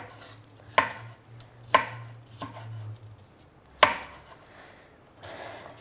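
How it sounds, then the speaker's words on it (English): A big knife chopping capsicum on a cutting board, four sharp, well-spaced thuds with quiet gaps between them, close and clear, with no voices. "All you got to do is chop the capsicum like so."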